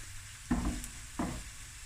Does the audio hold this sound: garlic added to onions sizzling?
yes